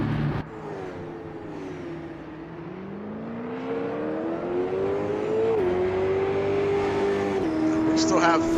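A stock car in a racing video game peels out of its pit stall with a damaged right rear fender, its engine note climbing steadily in pitch as it accelerates away, close and loud under continuous commentary.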